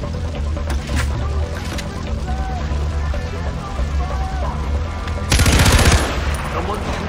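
A loud burst of automatic gunfire in the Far Cry 4 Himalayas campaign cuts in near the end, following a quieter stretch of ambient game sound and scattered shots.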